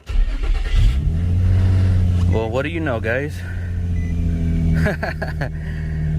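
A car's engine turns over and catches, then idles and revs up and down after repair with a correct crankshaft sensor and an OEM throttle body fitted, running steadily and loud throughout while someone speaks briefly over it.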